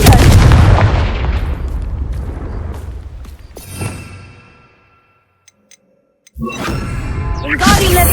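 A Confringo spell explosion in Hogwarts Legacy booms loudly and decays over several seconds, followed by a short silence and then fresh blasts and crackling.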